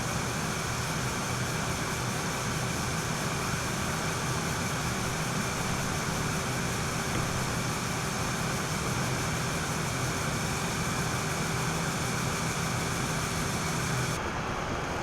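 A PC case fan runs steadily behind a thin P28 mesh filter, giving an even, constant whooshing hum with a faint tonal whine that holds unchanged throughout.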